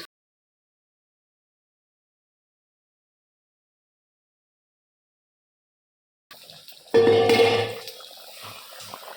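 Raw water poured into a cooking pan with hard potatoes and fish, a short splashing pour starting after a long silence, then settling into a quieter trickle.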